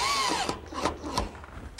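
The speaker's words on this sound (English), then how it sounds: "I'll just fasten a screw to the center of the post." A power drill drives a screw into the center of a wooden bed post for a pencil-post bed, a brief whirring burst with a rising whine and a few short grinding pulses.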